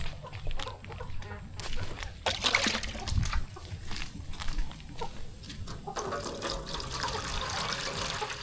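Water splashes and trickles into a container for a turkey on a rural farm, with fowl clucking nearby and steady splashing through the latter part.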